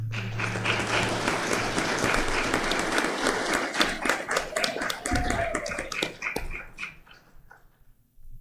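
Sustained applause from a crowd, steady clapping throughout that thins out toward the end, with a faint background whimper.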